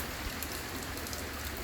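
Steady rain from Typhoon Rolly falling in Antipolo, Philippines, a dense even hiss of drops on surfaces with no distinct events, moderately faint and unbroken, no one speaking.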